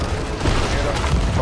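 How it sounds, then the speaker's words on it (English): Gunfire hits the players' ship in Sea of Thieves, a rattling fusillade of shots mixed with a dense game din while players talk over it. "They're shooting us."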